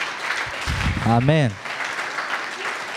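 A church congregation cheers and applauds in praise, a steady wash of crowd noise running through the whole moment while a voice speaks briefly near the start.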